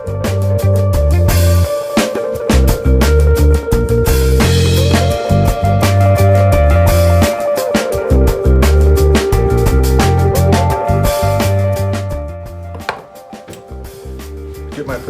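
Garlic cloves being chopped with a knife on a board, heard as a dense run of quick, loud, close blade strikes that continue for the whole stretch, easing slightly near the end. No one speaks.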